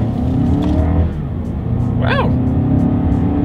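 A 2020 Lexus NX 300 F Sport SUV engine during a paddle shifter test, rumbling loudly and steadily from inside the cabin with brief shift changes; a voice briefly exclaims.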